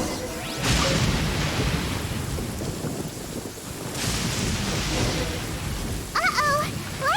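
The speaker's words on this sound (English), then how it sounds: "Uh-oh! Lightning storm!" A lightning storm with heavy rain in the video game Genshin Impact: a dense, steady hiss of rainfall and wind, with two brighter crackling bursts, and a brief voice near the end.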